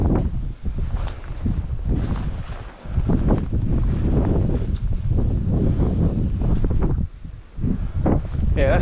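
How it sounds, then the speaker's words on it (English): Strong wind gusts over a forested hilltop at night in Bellever Forest on Dartmoor. Heavy, continuous buffeting rumbles right against the microphone, with brief lulls between gusts. "the wind's coming from this direction"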